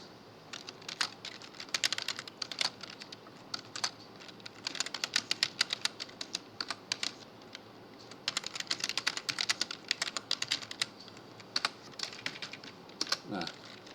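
Typing on a computer keyboard during a Python coding lesson, rapid uneven bursts of clicky keystrokes with short pauses between runs, close and fairly quiet.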